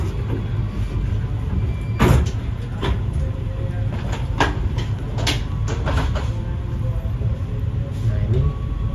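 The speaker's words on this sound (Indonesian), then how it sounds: "dari belakangnya udah mau masuk kereta Gajayana" Gajayana train rolling into a station, a steady low rumble of wheels and engine with scattered metallic clanks and knocks, continuous and fairly loud, people talking nearby.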